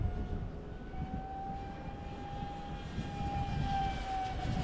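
A 3D-printed F-16 RC jet with a 50mm electric ducted fan flies overhead. Its steady, whining fan tone shifts slightly in pitch as it passes, over a constant rush of wind noise, with no talk.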